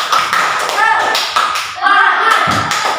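A school class performs a rhythmic spirit clap, hands striking in patterned bursts close by, with children's voices chanting and talking over the claps.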